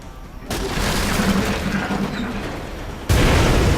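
A blast in the strategy game XCOM: Enemy Unknown during an alien attack on a city: a sudden loud boom erupts and roars on, then a second heavier burst near the end, with no speech.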